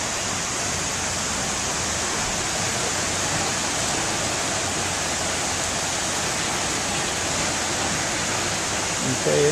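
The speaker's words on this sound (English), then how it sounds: "a nice waterfall area." A waterfall roars in a steady, dense rush of water that stays constant and fairly loud, with no clear talking.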